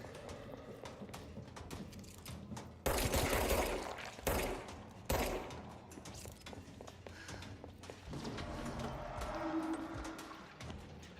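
Bursts of gunfire in the video game Control, several sharp loud shots amid a busy, clattering mechanical game soundscape, with no voices.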